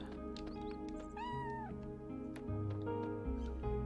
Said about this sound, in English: we could always take the cat